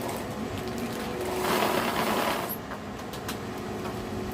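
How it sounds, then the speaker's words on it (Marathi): A sewing machine stitches blouse fabric along a zipper, producing a fast, continuous whirring run that swells midway and then eases to a steady hum, with no one speaking. "चेनवरती कडेला हे बघ शिलाई मारून घ्यायची अशी"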